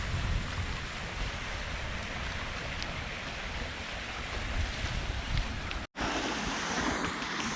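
A small stream flowing below a tea plantation in Vagamon, heard as a steady, close, full rush of water with a brief cut near the end, and no voices.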